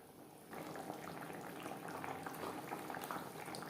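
Rupchanda pomfret fish curry with fish heads simmering in gravy, a dense, continuous bubbling close up that swells after a quiet half-second start and holds steady to the end.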